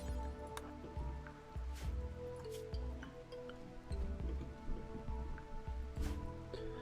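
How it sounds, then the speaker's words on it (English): Rain falls steadily on a foggy swamp in the RimWorld video game, a soft continuous patter with scattered drips and occasional brighter splashes, fairly quiet and with no talking over it. "Yeah, foggy rain in a foggy swamp."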